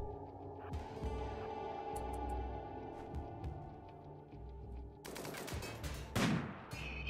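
Gunfire in the video game RimWorld, including charge lance shots fired during a raid: sharp bursts of rapid shots over a steady low game hum, with a louder cluster of blasts near the end.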